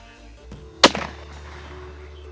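Single sharp rifle shot from a hunting rifle being sighted in, a loud close crack followed by a short fading echo, with a faint click just before.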